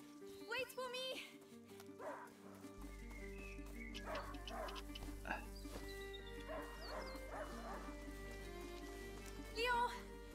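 A dog in the video game A Plague Tale gives a few yipping barks amid a forest scene with a low steady drone, while a person talks over much of it.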